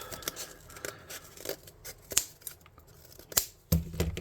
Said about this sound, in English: let's cut a little bit of this off